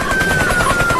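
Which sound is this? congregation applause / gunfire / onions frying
gunfire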